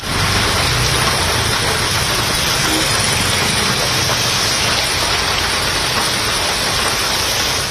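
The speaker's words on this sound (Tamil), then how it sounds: "முப்பது நிமிடத்திற்கு மேலாக பலத்த மழை பெய்தது" Heavy rain pours steadily in Tamil Nadu, a dense, loud, unbroken hiss of drops on surfaces with a faint low engine rumble underneath, lasting throughout without pauses.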